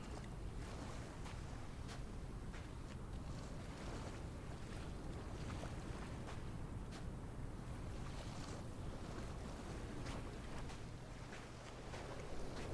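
Lapping ocean waves on a shore in the video game Dear Esther, a steady wash of surf and wind that stays constant and fairly loud throughout, with no voices.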